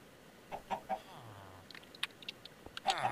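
Chicken clucks come in short, separate bursts, followed by a louder cluster at the end, all set against a quiet background inside a modded Minecraft world, Beyond the Skies.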